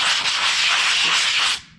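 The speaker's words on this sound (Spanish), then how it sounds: "Vamos a utilizar una esponja para lijar de esta fina" A fine sanding sponge rubs across a kitchen cabinet surface, a close, continuous bright hiss of abrasion lasting under two seconds before stopping abruptly.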